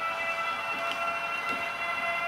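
A PKP Intercity EU44 electric locomotive passes at moderate distance with a three-car train, producing a steady tonal hum and rail rumble with faint clicks over a couple of seconds.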